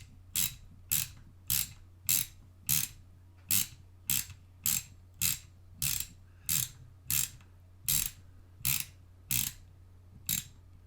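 A ratchet backs out a bolt from the handlebars of a Harley-Davidson M8 FXST motorcycle, making loud, evenly spaced sharp clicks, about fourteen in a steady rhythm, heard up close with no talking.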